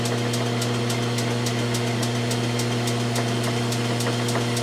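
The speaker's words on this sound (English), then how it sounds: "Trying to get a good finish on there from the lathe." A Logan lathe taking a super-light finishing skim on a rifle barrel's 11-degree target crown gives off a steady motor hum, with faint, regular ticking repeating throughout and no one talking.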